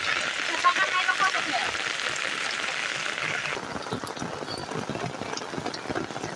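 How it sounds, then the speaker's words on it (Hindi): Steady rain falling outdoors near a forest, a dense continuous hiss of drops that shifts slightly in tone partway through, with no voices. "आज केमती वर्षा हो देखुं"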